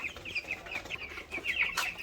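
Sixteen-day-old broiler meat chickens cluck softly in a home poultry setup, with a flock of quiet, repeated chirpy clucks overlapping in an uneven rhythm, fairly faint and with no talking.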